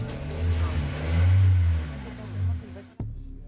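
A car engine revved on request at a roadside police noise check in Bulgaria, swelling twice with a low rising drone before cutting off abruptly near the end, with a voice heard over it.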